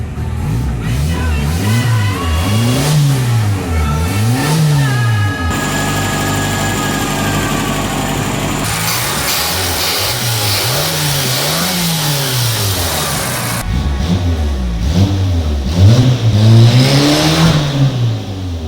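Ford Escort with a 1.6 engine revving repeatedly, loud rhythmic rises and falls in pitch, separated by stretches of steady high revs and idle.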